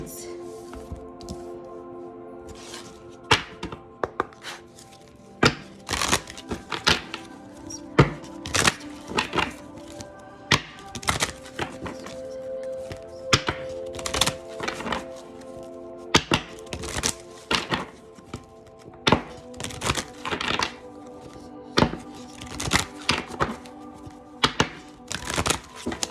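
A deck of tarot cards is shuffled again and again, giving crisp snaps, riffles and thumps throughout over a soft, steady tonal background.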